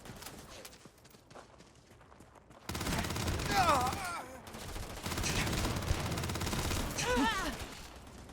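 Gunfire during combat in the Starfield video game, rapid bursts of shots mixed with game effects, loud and dense over several seconds after a quieter start, with voices shouting in between.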